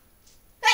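A single sharp sneeze bursts out near the end, close and loud after near silence.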